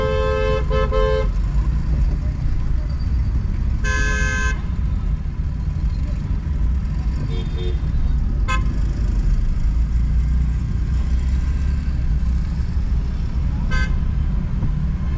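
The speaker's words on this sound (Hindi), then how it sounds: "बिना किसी वजह के हॉर्न पे हॉर्न बजाया जा रहा है बंदा।" A car horn honks repeatedly from a vehicle close behind in traffic: several separate blasts, some long and some short, spread over steady road noise and engine hum.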